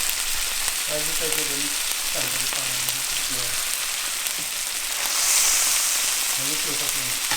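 Food fries steadily in a hot pan with an uneven hot spot, a continuous sizzling hiss filling the clip while a voice talks intermittently over it.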